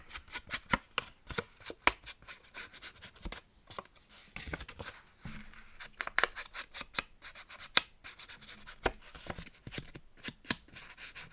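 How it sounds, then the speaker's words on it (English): Quiet, repeated snips of scissors or a corner rounder cut the corners of paper journal pages. The crisp clicks and paper rustles come in an irregular but steady rhythm, close up at a craft table. "I like to round the corners of the journal pages"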